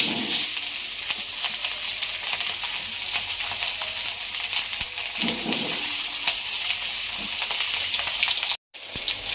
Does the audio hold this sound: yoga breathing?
no